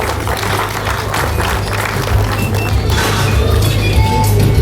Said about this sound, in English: Round of applause, ladies and gentlemen, Kakira Sugar.